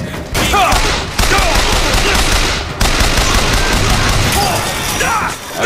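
Dense, continuous gunfire from the video game Bioshock Infinite, heavy bursts and crashes filling the scene almost without a break, loud and close, with a brief drop near the start and again around the middle.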